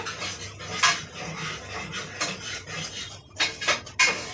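Scissors cut blouse fabric for a high collar neck, giving a few crisp, close snips spaced irregularly, with soft fabric rustling and handling noise between them.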